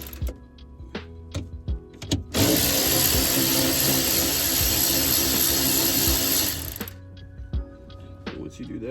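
Screws being taken out inside a car with a ratcheting wrench: scattered clicks and knocks, then a loud, steady mechanical whir running about four seconds before cutting off, followed by more light handling clicks.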